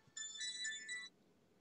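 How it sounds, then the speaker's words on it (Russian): A phone ringtone for an incoming call plays close and clear, a bright melodic electronic tone lasting about a second and then stopping. "Подожди, сейчас ко мне звонят."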